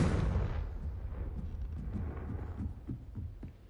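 A Confringo blasting spell going off in a Hogwarts video game: a sharp explosive burst at the start decaying into a rumbling, crackling tail, moderately loud with no talking.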